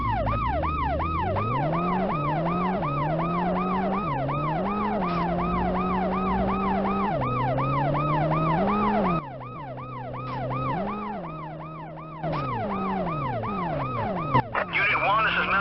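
An ambulance siren wails steadily in World's Scariest Police Chases on PS1, a loud rising-and-falling electronic tone running almost unbroken with a brief dip near the end, and no voices over it.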